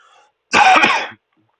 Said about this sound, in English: Clearing my throat.